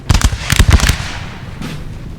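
A musket volley from grenadiers in Napoleon Total War: a burst of rapid, crackling shots bunched over the first second, loud and close, then a lingering rumble and a fainter shot.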